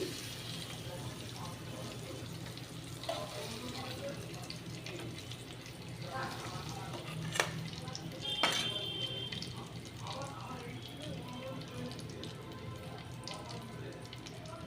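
Paneer cubes frying in oil in a pan on a gas stove, giving a steady low sizzle and bubbling that runs throughout, with a couple of brief clinks partway through.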